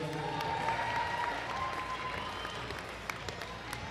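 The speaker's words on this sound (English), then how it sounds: "Give him a round of applause." A crowd at a strength games event gives a round of applause, a soft, continuous patter of clapping heard at a distance, with faint music in the background.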